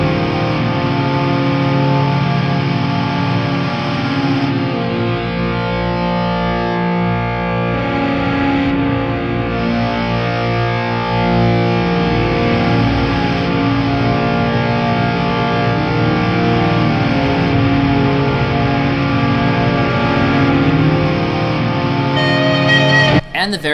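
Solo recording playing back from a CD, a dense, steady wash of layered, effects-heavy and distorted drone-like music with sustained tones that runs continuously at an even, fairly loud level for the whole stretch.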